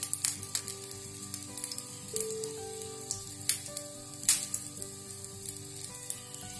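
Veg seekh kababs laid on a hot tawa one by one, a quiet crackling sizzle with occasional sharp pops and light contact clicks, with a steady background tone running underneath, no talking.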